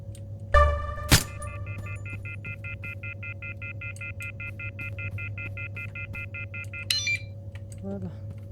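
Phone ringing in the video game One-Armed Robber: a steady electronic warbling ring pulses for several seconds at even intervals, with a couple of sharp clicks before it, under low game background hum.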